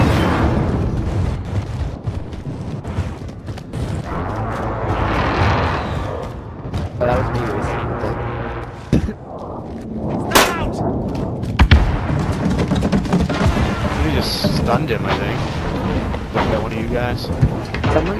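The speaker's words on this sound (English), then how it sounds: "Lethal grenades." Lethal grenades go off in a multiplayer shooter game as heavy booms and thuds, several of them scattered through a busy stretch of gunfire and game noise, while players chatter excitedly over the top.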